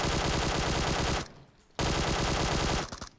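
Automatic rifle fire in the video game PUBG, two long loud bursts of rapid shots separated by a brief pause, close and dominating.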